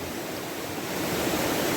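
A creek rushes nearby with a broad, steady hiss of moving water, constant and fairly loud throughout, with no voices.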